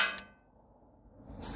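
A nylon airgun round fired from a modded T4E HDP50 strikes an aluminum panel, making a sharp metallic clang that rings briefly. A second impact follows about a second later, and the short clip has no speech.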